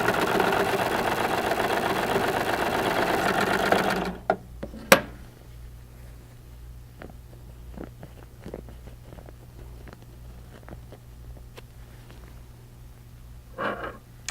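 A Baby Lock serger stitches a puffing strip for a pillow, giving a loud, steady mechanical whir for about four seconds before it stops, leaving faint clicks and handling noises.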